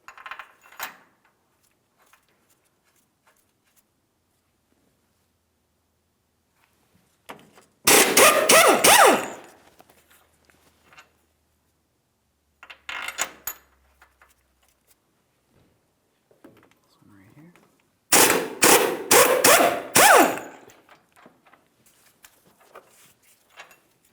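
A steering box mounting bolt on a 2007-2014 GMC Sierra 2500 HD is worked loose with two loud, rapid rattling bursts of a power tool, spaced by long quiet gaps with faint clinks and handling noises.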